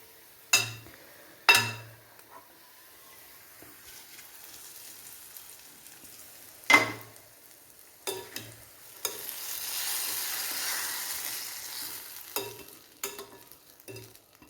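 Spices and pepper powder frying in oil for ginger-mango pickle, stirred with a utensil: sharp scraping knocks recur irregularly against the pan over a soft, sizzling hiss.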